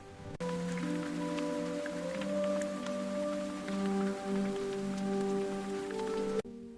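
Steady rain falls on a rainy day, a continuous close hiss with scattered drops and a low background hum, running evenly throughout with no talking.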